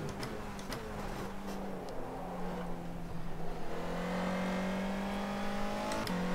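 A front-wheel drive Honda Civic race car in rFactor 2 at Silverstone drones at a steady, moderate engine note, pitch climbing slowly as it accelerates, with faint ticking clicks now and then.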